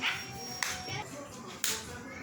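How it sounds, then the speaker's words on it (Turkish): Children clapping their hands a few times, two sharp claps standing out over quiet room noise, with faint indistinct voices in the background. "Şimdi bir daha alkış yap."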